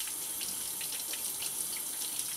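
A trumpet valve rinsed under a running kitchen tap, a steady close gush of water splashing with slight fluctuations, no voices.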